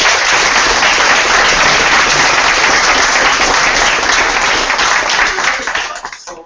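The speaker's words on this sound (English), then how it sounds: "Let's have a round of applause." An audience gives a sustained round of applause at a business conference, dense steady clapping that fades out at the end.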